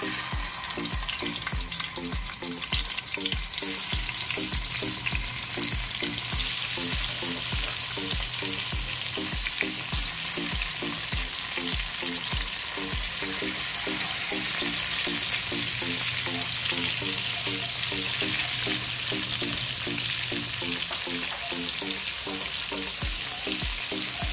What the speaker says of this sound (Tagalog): Next natin ay yung ating ipa-fried na tokwa.